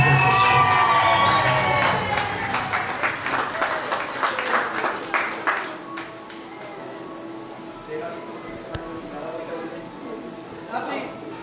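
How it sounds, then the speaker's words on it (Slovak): Guests at a luxurious Turkish wedding clap and cheer to welcome the newlyweds, a dense burst of applause with whoops and children's shouts that fades to a softer crowd murmur. "Privítajme našich mladomanželov veľkým potleskom."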